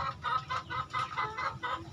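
Chickens cluck steadily inside a poultry coop on an Indonesian farm in the afternoon, with close, rhythmic bursts repeating about every quarter second and no voices.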